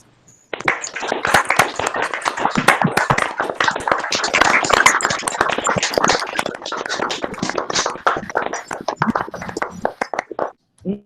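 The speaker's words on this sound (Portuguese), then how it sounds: "Pedimos uma salva de palmas" Clapping for a speaker at a solemn ceremony honoring the 50th anniversary of FACED, loud and close with dense, irregular hand claps from a group, sustained for several seconds before fading out.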